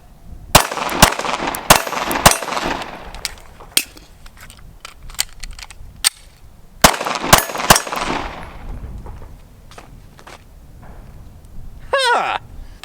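Suppressed pistol with an extended magazine firing sharp shots in clustered bursts with pauses between, followed by a brief rattling mechanical sound near the end.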